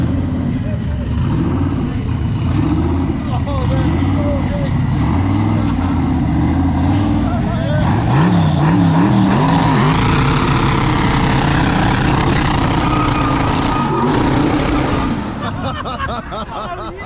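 A 4x4 off-road vehicle engine at a drift championship in Oman idles and revs loudly and close by, rising and falling with shifting pitch under and between talk.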